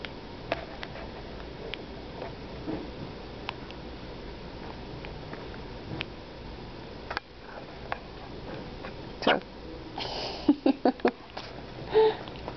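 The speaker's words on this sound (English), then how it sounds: "Oh, hiccup." A baby hiccups: faint, sharp little catches scattered over quiet room noise, then a tight cluster of several quick hiccups near the end.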